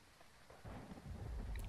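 Thunder from a lightning storm swells into a low, heavy rumble that grows louder over a bed of steady rain-like noise, with no one talking.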